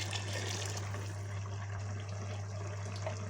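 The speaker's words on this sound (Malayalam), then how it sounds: "ഇതിനാവശ്യമായ വെള്ളം ഒഴിക്കാം." Soft, steady splashing of water being poured into a cooker for biryani, with a low constant hum underneath; short and fairly quiet, no voices.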